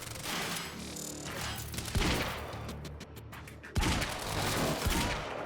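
Bursts of rapid gunfire from a PC shooter game, Quantum Break, loud and dense throughout with sharp heavy volleys and impacts near the start and again partway through.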